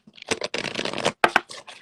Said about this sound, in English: Sorry, I'm having to shuffle a lot.